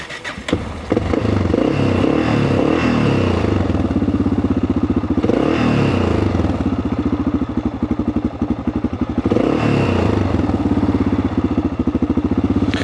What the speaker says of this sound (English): So that's idling a little bit high, but that'll do the job.